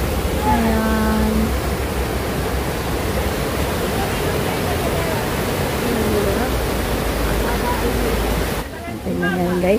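A park waterfall roars as a steady, loud, continuous wash of falling water, with people talking over it throughout before the sound cuts off near the end.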